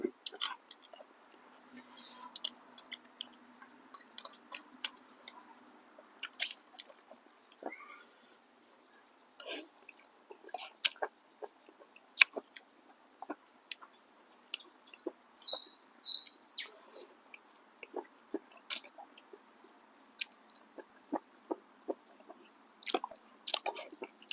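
Someone eats a spicy Thai cockle salad mixed with instant noodles and crisp fresh vegetables, with close, irregular crunching and chewing bites and small mouth clicks over quiet background.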